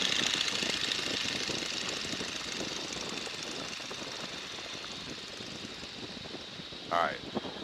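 A Boeing N2S-3 Stearman biplane's radial engine throttled back to about 1100 RPM in flight, a steady, fairly quiet rumbling drone with rushing wind, plus a brief louder burst near the end.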